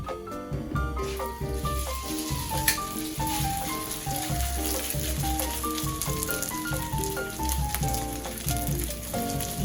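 Spoonfuls of grated potato latkes frying in a shallow quarter-inch pool of canola oil in a pan, a steady close sizzle and crackle heard over music.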